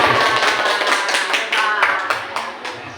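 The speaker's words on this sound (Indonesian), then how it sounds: "Kasih tepuk tangan buat Pak Edi." An audience at a school gathering gives a short burst of applause for Pak Edi, dense rhythmic clapping that fills the whole moment and fades slightly toward the end.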